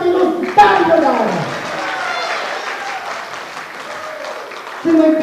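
Applause at a Nepali gathering honouring a young journalist rises after a speaker's words and rolls on for several seconds, a broad wash of clapping that fades before a voice returns at the end.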